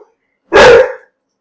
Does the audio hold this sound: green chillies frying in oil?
no